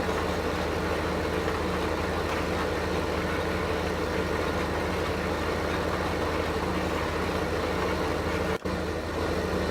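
A powerful tractor in Farming Simulator 2015 strains under load, its heavy engine a steady, loud, low drone with no letup, briefly cut by a sharp click near the end.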